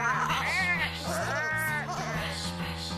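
A cartoon sheep bleats in a children's animated episode: a run of wavering, quavering bleats over light music, loud and close, filling the three seconds.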